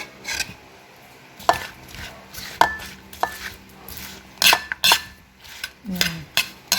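A spoon stirs pakbet vegetables in a pan, producing sharp metallic clinks and scrapes that come in irregular bursts with quiet gaps between them.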